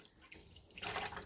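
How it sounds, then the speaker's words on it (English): Water pours from a tap into a container for curing ham, a continuous, fairly quiet splashing stream that grows fuller and brighter toward the end. "I'm going to add about 1 gallon of water to cool it off"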